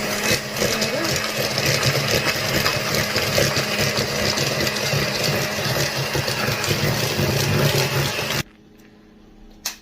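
Room-temperature butter and sweetener being whisked for banana bread, likely with an electric mixer: a steady, close, whirring buzz for about eight seconds that cuts off abruptly into near silence with a small knock.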